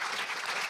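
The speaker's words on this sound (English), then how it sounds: "let's give all of our winners, all of our spellers, a round of applause" Audience applause for the winners of a school division spelling bee, a brief burst of dense steady clapping from a crowd.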